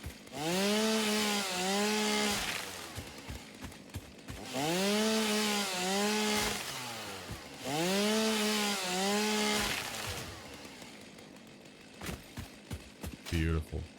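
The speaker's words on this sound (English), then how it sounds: "God, imagine taking your chainsaw into a pile of leaves." A chainsaw cuts plants in the video game Satisfactory, giving three loud, close revving bursts of a couple of seconds each, pitch rising and falling, then trailing into scattered short clicks.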